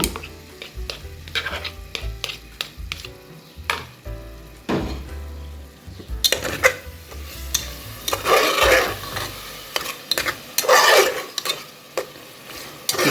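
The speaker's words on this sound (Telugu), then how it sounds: "ఇప్పుడు ఈ మూమెంట్లో దీంట్లో పెరుగు వేస్తున్నాను చూడండి నేను ఒక హండ్రెడ్ ఎంఎల్ పెరుగు వేస్తున్నాను" Yogurt, about 100 ml, stirred into spices frying for mutton kheema with ridge gourd. A spoon repeatedly scrapes and clacks against the pot while a wet sizzle rises and falls, louder in the second half, with nobody speaking.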